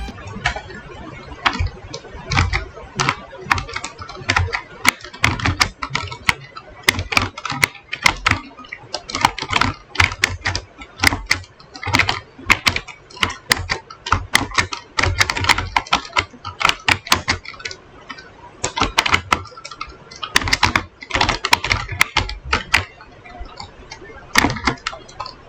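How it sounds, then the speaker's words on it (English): Rapid computer keyboard typing during video game play, close and crisp, with bursts of clicky keystrokes and brief pauses throughout. "along with some ASMR keyboard gameplay"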